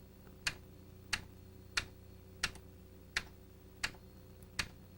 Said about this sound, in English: By tapping the quote key on your keyboard